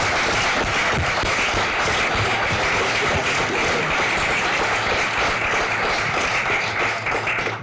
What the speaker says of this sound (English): how about one more round of applause for all of our student recipients this evening?